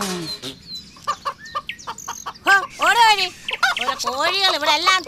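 Chickens cluck in short bursts around a house yard, fairly close, with voices talking over and between the calls.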